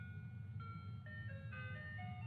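An ice cream truck rolls by, its tinkling jingle melody playing over the low, steady rumble of the engine, fairly faint and distant with no voices.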